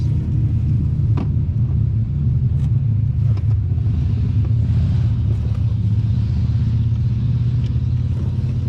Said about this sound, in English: wait for this motorcycle to pass.